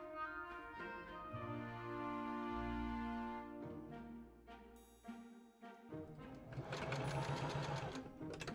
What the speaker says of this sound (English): I pin and serge the whole waist seam together